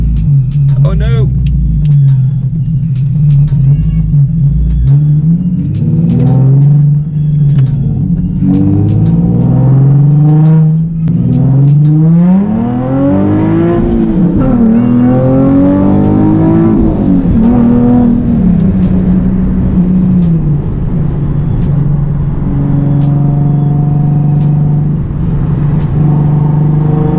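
A loud modified Nissan 370Z drives on city streets, its engine droning steadily close by with revs rising and falling through gear changes, while the driver talks throughout.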